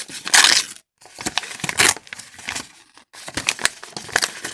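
A large paper surprise package shaped like an Easter paska cake is being unwrapped, with loud, close crinkling and crushing bursts coming in uneven bursts separated by brief pauses.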